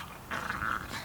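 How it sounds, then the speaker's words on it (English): Dogs fighting in the background, growling and snarling in a short, muffled burst at moderate distance outdoors near a spring vegetable garden in Victoria, Australia. "My dogs are fighting in the background"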